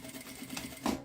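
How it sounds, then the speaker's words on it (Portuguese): A sewing machine runs a short burst of stitching along a marked line on fabric for a small pencil case, close and fairly quiet, with a brief whirring rhythm that swells near the end. "a gente vem aqui na máquina e passa a costura bem em cima desse risco"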